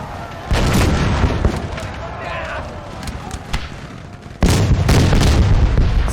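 Gunfire and cannon shots in a large 3v3 Russian battle video game, heard as loud, dense booms and pops with a sharp new burst near the end, under continuous battlefield noise and some talk.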